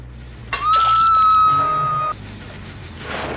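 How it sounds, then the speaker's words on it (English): Cleansing of a fountain in the game Dead by Daylight, a rising tonal shimmer that holds steady for about a second and a half before cutting off sharply, over faint background game ambience. "so that sound you heard was a fountain being cleansed"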